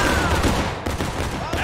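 Musket volley gunfire in the Civil War game War of Rights, a dense, continuous crackle of many shots blending into a loud rolling fusillade that runs through the whole moment with no clear gaps.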